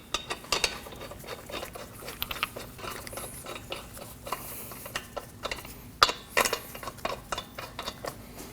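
Wheel lug nuts are threaded onto a Chevrolet Colorado hub with a quick series of ratcheting clicks and metallic taps, fairly close and irregular, without talk.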